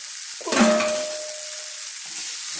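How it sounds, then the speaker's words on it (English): Shin Ramyun noodles stir-fried in a hot frying pan: a sudden loud sizzle, then steady crackling hiss as they keep frying. "concentrate on stir frying, flip the frying pan, add vegetables"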